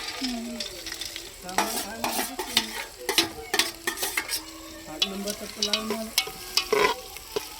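Masala with peanuts and poha is stirred in a pot over a wood-fired chulha, with rhythmic scraping strokes and clattering against the metal over a soft frying sizzle. No one speaks.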